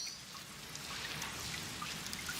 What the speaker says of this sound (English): Welcome to the city of perpetual rain.